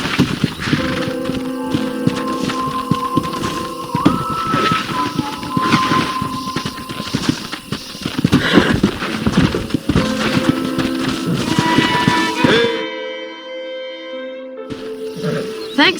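A stallion's hooves clip-clop in Red Dead Redemption, a steady galloping rhythm over background music that stops abruptly near the end before a brief sound resumes.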